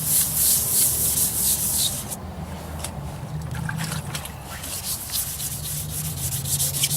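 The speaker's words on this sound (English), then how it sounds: "We're just trying to get the oxidation off of this" Steady abrasive rubbing of sandpaper scrubbing back and forth over an oxidized plastic headlight, close up, louder for the first two seconds, then continuing a little softer.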